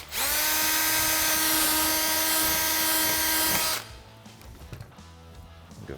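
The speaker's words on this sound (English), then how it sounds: "Drill another hole right here." A power drill bores a hole for a fender flare on a Polaris RZR XP Turbo, whining loud and steady for about four seconds before cutting off to quiet room noise.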